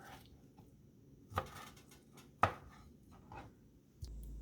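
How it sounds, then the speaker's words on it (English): A knife cuts peeled shrimp into bite-sized pieces on a cutting board, giving two or three soft, distinct chops against quiet background noise. "I'm just going to go ahead and cut each shrimp into 3 pieces"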